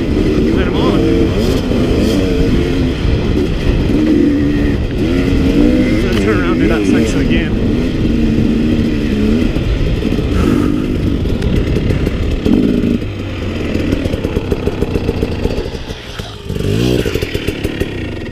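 2017 KTM 250 and 300 XC dirt bikes climbing uphill, engines roaring and revving loudly with bursts of acceleration and brief throttle chops near the end, while a person talks over the noise.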